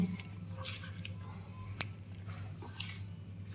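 Soft, wet squishing and occasional light taps as thick gram-flour batter is coated onto chili peppers by hand, quiet and close over a low steady hum.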